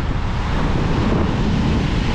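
Sea waves wash onto the beach at Sudak, Crimea, a loud, continuous surging roar mixed with wind buffeting the microphone, with no voices.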